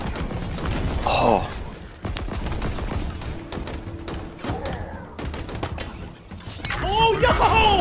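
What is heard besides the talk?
Ravager gun firing in Halo Infinite video game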